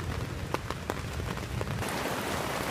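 Rain drums on a camping tent on a cycling trip near Venice, a loud, constant patter with sharper individual drops tapping on the fabric close by, and no voices.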